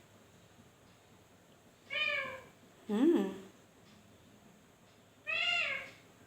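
A pet parrot mimics a cat's meow, giving three distinct, close, drawn-out meow-like calls spaced about a second apart, the middle one lower and rougher, with a quiet hum of voice between them.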